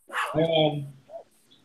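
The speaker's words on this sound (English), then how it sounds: "My dog's getting chased by a dog." A dog being chased by another dog lets out a quick, sharp bark or yelp up close, followed by a softer whimper, all within a moment.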